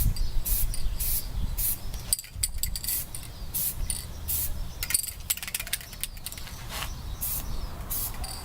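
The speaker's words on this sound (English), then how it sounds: "Go ahead and shake my spray can." Spray paint can hissing in repeated short bursts while painting the front of a vintage road bike during restoration, close and fairly quiet, with faint mechanical clicks between sprays.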